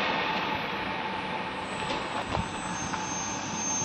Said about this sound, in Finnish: Siinä on meidän juna.